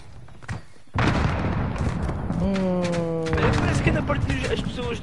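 Gunfire in a shooter video game: a sharp shot bursts out after a quiet second, followed by dense, noisy firing and thuds, with someone talking over the shots.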